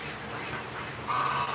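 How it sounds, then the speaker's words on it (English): Geese honk and quack in an excited cluster, a noisy, fairly steady chatter of calls that grows louder near the end. "the geese are hysterical"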